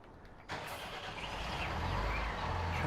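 A Valtra tractor engine in a farming video game cranks over at about half a second and catches, settling into a steady, loud low rumble.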